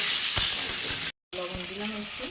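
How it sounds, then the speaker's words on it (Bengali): Taro pieces frying in hot oil with salt and turmeric give a loud, steady sizzle, cut by a brief silent gap, then resuming with faint voice-like tones over the hiss. "গাটি কচুগুলো লবণ হলুদ দিয়ে একটু ভেজে নিই"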